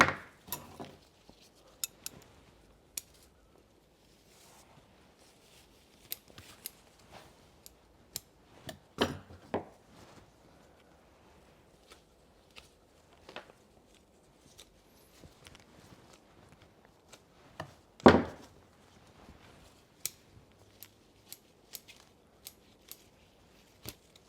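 Sparse, quiet snips of scissors trimming a Zelkova bonsai forest, isolated sharp clicks scattered irregularly over a near-silent background, one louder cut midway.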